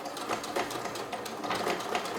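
Sewing machine running a 5 mm seam along the side and bottom of a cloth bag, a quiet close rapid mechanical chatter with a steady fast stitching rhythm.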